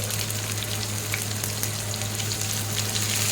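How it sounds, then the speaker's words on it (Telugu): Chopped onion and curry leaves fry in hot oil as a tempering, a loud, continuous close-up sizzle with no talking. "బాగా ఫ్రై చేసుకోవాలి"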